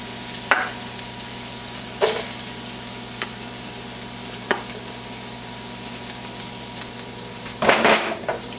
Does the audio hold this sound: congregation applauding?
no